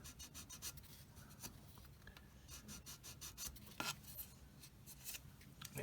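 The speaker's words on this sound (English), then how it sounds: "this is kind of boring watching me sand this" Sanding plastic parts of a 1/35 Asuka M4A3 76W VVSS Late Sherman model tank hull, a steady close rasping scrape in repeated strokes with short pauses, no talking.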